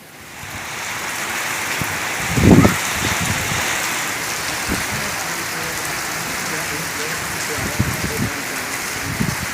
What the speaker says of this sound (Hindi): देखो कितना जोर दी बारिश है।